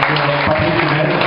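An audience at a church gathering applauds for Pastor Hélène, a short burst of dense, steady clapping with voices mixed in.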